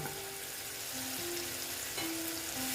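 Frying spice paste sizzling steadily in oil as tomatoes go in for a Bengali tangra fish curry, a soft continuous hiss with a faint tonal hum underneath, quiet and close.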